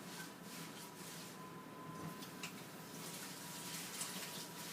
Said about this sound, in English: So I'm going to dunk it in a big bowl of water.